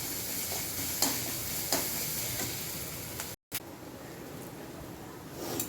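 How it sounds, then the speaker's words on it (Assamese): Onions fry in hot oil with a quiet, continuous sizzle, broken by a few sharp ticks of a spatula against the pan and a brief cut to silence partway through. "এইখিনি অকণমান সময় পিঁয়াজখিনি ভজালৈকে মানে তেল ওলোৱালৈকে ভাজিব লাগিব।"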